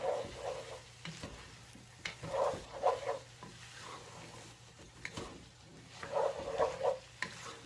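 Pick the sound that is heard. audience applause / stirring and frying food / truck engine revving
stirring and frying food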